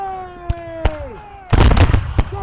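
War of 1812 reenactors fire a ragged musket volley outdoors: a few scattered early shots, then a dense, loud burst of overlapping cracks and booms, with a couple of late stragglers as a sustained tone fades beneath.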